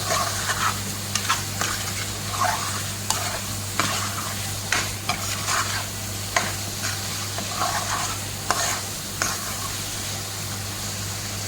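Chicken curry is stirred in a sizzling pan: loud, repeated scraping strokes over a constant frying hiss, with a steady low hum in the background.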